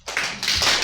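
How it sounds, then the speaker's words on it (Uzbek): Two hand claps, close and sharp, one quickly after the other during a classroom exercise break, with a brief room ring after each. "Ikkita qarsak."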